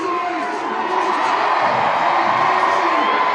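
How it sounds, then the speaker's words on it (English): A stadium crowd at a Savannah Bananas Banana Ball game erupts in loud cheering, whoops and shouts, a dense continuous roar throughout. "The crowd goes wild."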